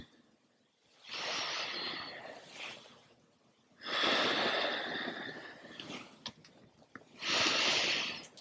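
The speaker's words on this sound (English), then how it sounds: "Easy breaths in and easy breaths out" Slow, deep breaths during a gentle yoga session, three long airy inhales and exhales a few seconds apart, close and clearly audible with quiet pauses between them.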